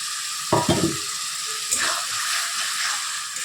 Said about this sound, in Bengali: এখন দিয়ে দেবো ভেজে রাখা চিংড়ি মাছ।